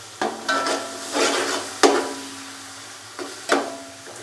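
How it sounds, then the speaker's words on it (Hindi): Ginger garlic paste frying lightly in a pan while making chicken pulao, with scraping stirs and sharp spoon knocks against the pan over a soft steady sizzle, close and fairly quiet. "अदरक और लहसुन के पेस्ट को हल्का सा फ्राई कर"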